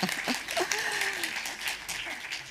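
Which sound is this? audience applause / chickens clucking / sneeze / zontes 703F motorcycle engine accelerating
audience applause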